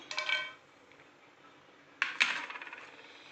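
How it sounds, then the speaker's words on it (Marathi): Cashews drop into hot ghee in a pan with two bright clinking bursts, one early and one later, the second trailing into a few lighter rattles in a quiet kitchen. "तूप चांगलं गरम झालं आहे आता त्यात मी काजू टाकून घेतो"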